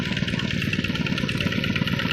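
A two-wheel walking tractor engine runs steadily up close, a continuous, even mechanical chugging with no talk over it.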